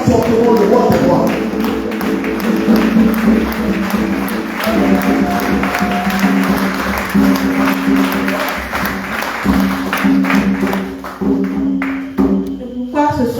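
A church congregation claps and acclaims during a service, with a dense, steady wash of hand claps and shouting voices over sustained tonal music that runs throughout.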